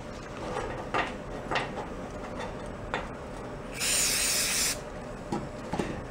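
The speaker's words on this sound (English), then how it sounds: "Now you come back with some brake clean." Brake cleaner sprayed onto a salvaged roadside generator, one steady hissing burst of about a second, with scattered clicks and rubbing noises before and after.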